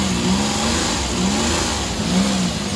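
A car engine idles steadily with the air conditioning running, then rises in a few short revs and settles back, loud and close throughout with no voices.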